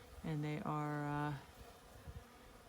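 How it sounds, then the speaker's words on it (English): A foraging bee buzzes close by outdoors in winter, a loud steady drone with a brief break, lasting about a second before fading to quiet background. "I hear one buzzing."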